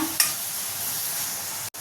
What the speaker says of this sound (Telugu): చింతపండు కూడా వేస్తున్నా వేసి కలిపేస్తున్నా